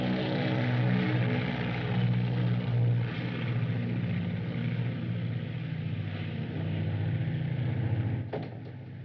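A propeller-driven mail plane bound for London passes overhead in 1939 Paris, its engine drone steady and fairly loud throughout before easing slightly at the end.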